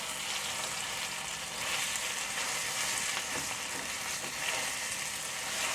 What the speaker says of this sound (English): I'm going to scrape up the goodie off the bottom.